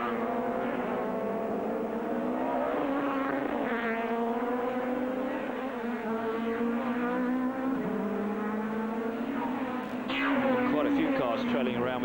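Touring cars race at the Norisring street circuit in the 1997 STW championship, engines revving and shifting through gears with a rising, falling howl, one car restarting after a tyre-wall crash while a commentator talks over the noise.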